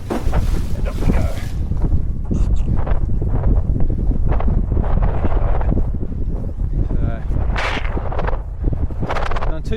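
Gusty wind buffeting during a wing foil session on Pittwater, heavy roaring wind noise on the microphone with rushing water beneath, loud and continuous with surging gusts.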